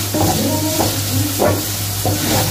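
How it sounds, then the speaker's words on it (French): Tomato insides cook with a mix of onions and shallots in a pan, making a loud, close sizzle under a steady hum, with a few scraping stirs of a utensil; no one speaks. "je vais faire revenir l'intérieur des tomates avec le mélange d'oignons et échalotes"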